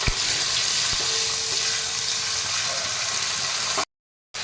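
Tomato with ginger and green chili paste frying in oil, a loud, dense, continuous sizzle heard up close, cutting out abruptly near the end before resuming briefly.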